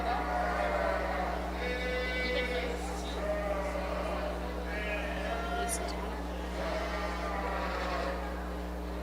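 Sheep bleat repeatedly at a provincial sheep show ring over a steady low hum and a busy crowd-like background, several calls overlapping at moderate distance.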